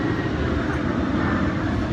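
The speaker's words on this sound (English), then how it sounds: "Excuse this plane." An airplane passes overhead outdoors, a broad, steady roaring drone that fills the whole moment at a fairly loud, constant level, with no talk over it.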